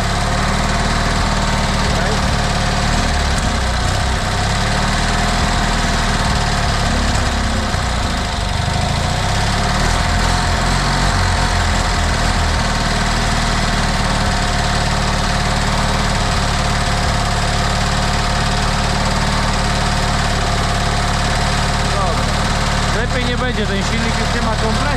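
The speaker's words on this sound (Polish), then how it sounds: "Ten silnik już nie ma kompresji." A worn Fiat 126p cabrio engine with no compression idles continuously, a loud, steady mid-pitched rumble with rough vibration lasting the whole stretch, close by.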